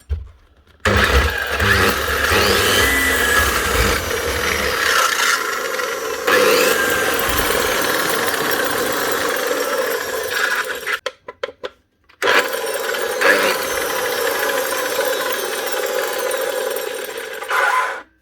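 A Makita GA9040 angle grinder fitted with a Laserchaser head, its head bearings worn out, runs with a loud, harsh rattling whine that cuts out briefly near the middle, then starts up again and runs on.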